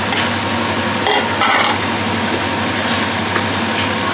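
Tomatoes, onions and peppers being stirred together in a cooking pot, a steady close sizzle with scraping stirs throughout, no talking.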